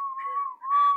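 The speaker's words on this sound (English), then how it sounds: "Listen to that whistle." A whistle is blown in one loud, sustained, piercing blast lasting about a second.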